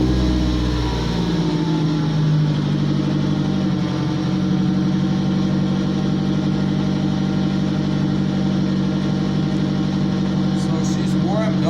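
A warmed-up car engine idling steadily around 1100 rpm with a low, even hum and faint mechanical ticking, close and continuous throughout.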